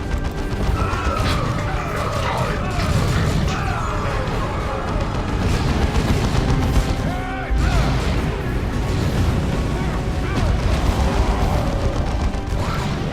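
Gunfire and explosions in the real-time strategy game Dawn of War II: Chaos Rising, dense and loud, with rapid weapon fire, crashing impacts and heavy booms layered throughout a chaotic battle, with in-game voice lines mixed in.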